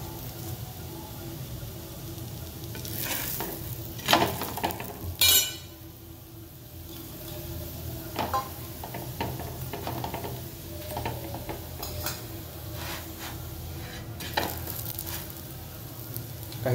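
A pumpkin bhakri flatbread roasts with oil on a pan, giving a steady soft sizzle with scattered pops and occasional scraping clicks from turning, with no speech.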